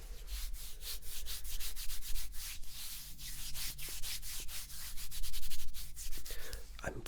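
Hands rub cream into forearm skin in close-miked ASMR, a soft continuous swishing and brushing with rhythmic strokes, fairly quiet, without speech.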